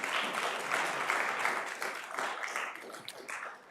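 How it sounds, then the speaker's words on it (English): Conference audience applauding, a dense wash of many hands clapping that swells and then slowly thins out toward the end, with no voices over it. "Can we give them a big round of applause,"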